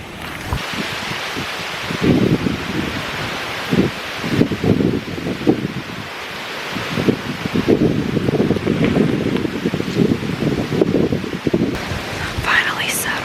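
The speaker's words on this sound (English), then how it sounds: "Still really windy." Steady, blustery wind roars and buffets outdoors throughout, with rustling gusts rising and falling and some noise hitting the microphone.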